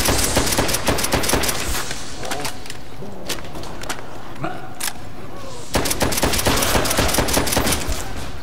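Rapid automatic gunfire bursts in Call of Duty Nacht der Untoten zombies mode, loud dense volleys at the start and end with a sparser, quieter stretch of scattered shots in between, and some voice chatter mixed in.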